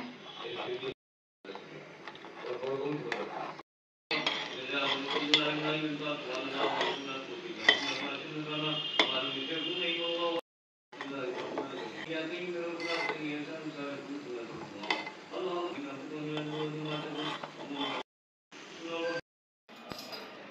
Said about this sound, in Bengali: এখন নাড়তেছে, এটা সমানে নাড়তে হবে।